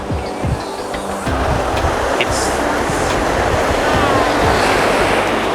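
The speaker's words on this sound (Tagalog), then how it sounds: "You can see the wave. It's too high." Steady roar of high, strong ocean surf washing in, a loud continuous wash of noise with no voices.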